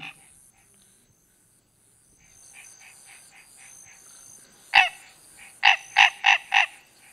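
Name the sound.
frogs calling in a marsh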